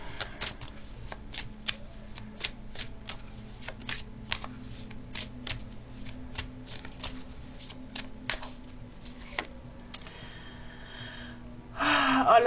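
Oracle cards being shuffled for a card reading, a long steady run of close, crisp riffling taps and flicks in an even rhythm, ending in a louder burst of rustling and handling noise; no speech.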